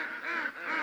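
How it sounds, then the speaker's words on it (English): Ducks from a flock of farm ducks quack in two drawn-out nasal calls, fairly close and steady, with no voices. "You can probably hear my obnoxious ducks in the background"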